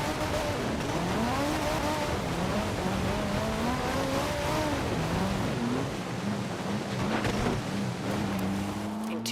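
Car engine droning and rising through gear changes in the Forza video game, with tire squeal over a steady close road roar; a voice talks faintly beneath.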